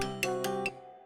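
A kick drum sample played in the Soundtrap online beat maker, a handful of evenly spaced booming hits over a sustained tonal bed, close and clean, fading out after about a second.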